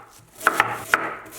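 A knife cuts peeled yam (Chinese yam) into thin slices on a board, landing three or four crisp, close chopping taps in quick, uneven succession.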